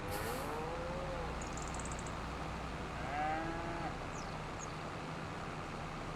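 Cattle mooing in the video game Farming Simulator 25, two drawn-out moos a couple of seconds apart over a steady farm and engine hum, with faint distant calls, and no voices.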